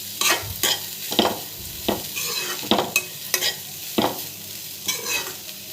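Broad bean pieces tossed into a frying pan and stirred, giving repeated scraping stir strokes about once a second over a soft sizzle, close and moderately loud, with no talking.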